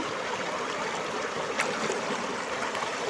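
Laundry rinsed by hand in a clear riverside stream, a steady wash of flowing and splashing water close by, with a brief sharper slosh midway and no talk.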